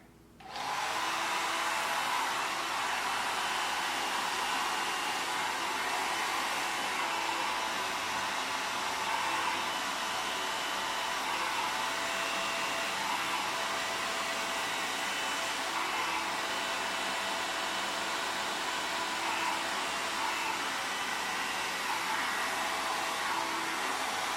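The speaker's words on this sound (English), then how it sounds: "now we're going in with our diffuser" A hair dryer fitted with a diffuser dries curly hair, its steady broadband whoosh starting abruptly and running loud and unbroken at close range.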